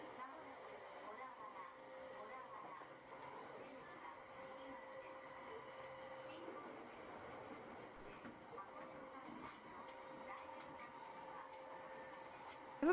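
A steady, low rumble of a train interior while riding, continuous and moderately quiet, with faint clatter and muffled voices underneath.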